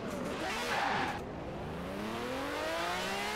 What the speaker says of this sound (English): Engine sound is great.